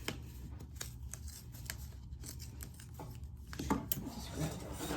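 Crisp snipping of scissors cutting leather in quick irregular bursts, close by, with light handling rustle and no talking.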